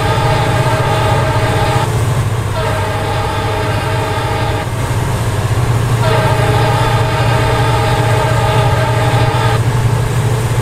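Long, loud blasts of a WDG4D diesel locomotive horn in the Railworks train simulator sound three times, steady and close, over a constant low engine rumble.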